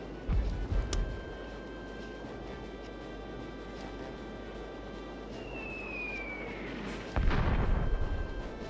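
Artillery fires in the Warhammer Dark Omen battle game, a booming shot near the start and another near the end, with a whistling projectile sweep and a steady low rumble in between.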